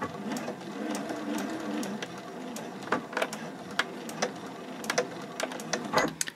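A Juki DX 4000 QVP (Kokochi) sewing machine stitches fabric with a steady whirring run, punctuated by sharp ticking clicks toward the end, close and alone without speech.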